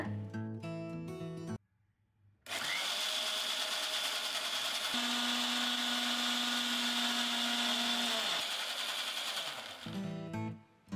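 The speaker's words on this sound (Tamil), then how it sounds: "மிக்ஸியை மூடி நல்லா அரைச்சிக்கோங்க." A mixer grinder blending pomegranate juice with ice whirs loudly and steadily for several seconds, its pitch dropping slightly near the end before it switches off.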